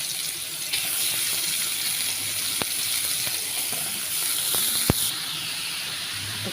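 Kofta sizzling on a hot grill pan, a loud continuous close hiss of frying fat with scattered sharp pops and crackles, swelling slightly near the end.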